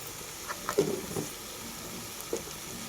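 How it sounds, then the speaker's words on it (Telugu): Eggplant pieces frying in a pan give a steady soft sizzle with a few faint stirring scrapes, close and fairly quiet. "వంక ముక్కలు అయితే వేసుకున్నాను"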